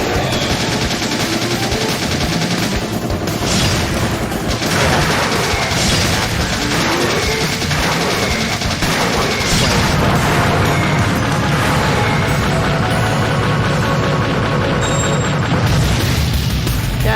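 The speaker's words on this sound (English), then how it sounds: "This is where it becomes a bullet hell." Dense, continuous rapid-fire shooting and booming explosions from a bullet hell arcade shooter game on exA-Arcadia, loud and unbroken throughout with no speech.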